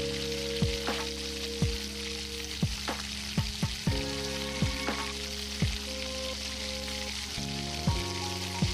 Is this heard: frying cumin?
yes